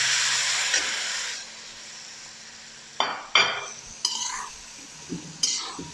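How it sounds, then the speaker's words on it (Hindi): Boiled chicken stirred and fried in spiced masala in a pan: a loud sizzle at first that fades, then several sharp scrapes and clinks of a spoon against the pan, close-up, with no talk. "थोड़ा सा इसको फ्राई करेंगे इस चिकन को।"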